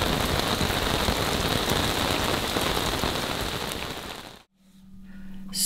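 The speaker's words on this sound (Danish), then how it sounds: "er det godt nok heavy rain." Heavy rain pounding on a sailboat in the Swedish archipelago, a dense loud hiss of drops that fades out near the end, leaving a low hum.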